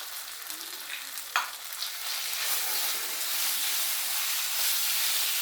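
Cashews sizzle in hot oil in a pan for sweet pongal, a steady bright frying hiss that swells and holds, with a light stir or clink early on and no voices.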